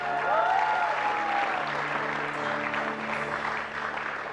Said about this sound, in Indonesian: Kita berikan tepuk tangan yang meriah untuk Bapak Syaiful